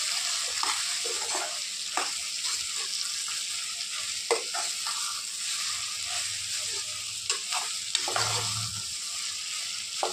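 Soybeans sizzling with a pinch of asafoetida in a hot pan, a steady broadband frying hiss running throughout, broken by scattered scrapes and clinks of stirring, with no talking.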